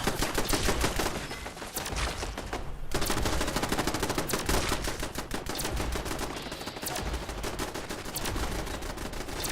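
Rapid automatic gunfire from a Fallout game with power armor and weapons, sustained bursts of dense crackling shots running almost the whole time, loud and continuous with a brief dip in the middle.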